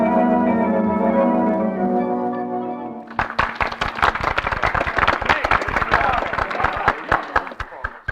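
After a sustained musical chord fades, a burst of sharp, rapid hand clapping starts and continues, lively and fairly close, from an audience in an old-time radio drama.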